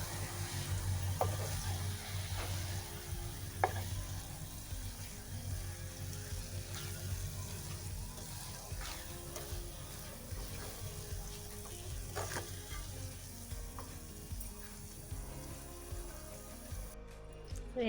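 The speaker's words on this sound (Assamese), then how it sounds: "নাৰিকলখিনি মই এনেদৰে ভাজি আছোঁ।" Grated coconut frying in a pan for coconut barfi, a steady low sizzle with occasional scraping clicks of a spatula, continuous and close.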